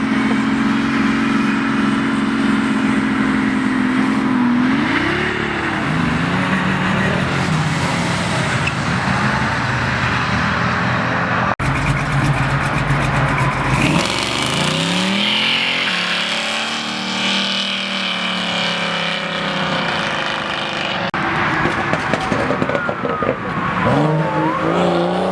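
A Mazda RX7 revs hard and peels out at a car meet, its engine note rising and falling loudly with tire squeal and crowd noise in the background.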